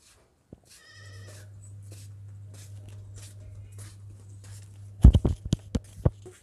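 A goat bleats once in a sustained, wavering cry, followed by a few sharp taps and shuffling noises nearby.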